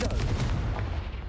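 The Confringo blast spell in the video game Hogwarts Legacy lands as a heavy, rumbling explosion, a close boom that fills the whole short moment and fades only slightly at the end.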